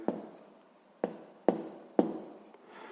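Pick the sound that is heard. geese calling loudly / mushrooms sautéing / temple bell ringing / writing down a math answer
writing down a math answer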